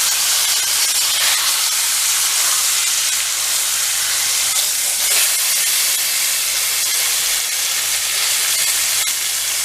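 Beef searing in a hot pan for boeuf en croute gives a loud, continuous close-up hiss and sizzle that holds steady throughout with no voices.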